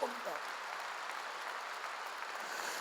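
Applause from a church congregation during a sermon, a steady dense wash of clapping lasting a few seconds, with a brief voice at the start.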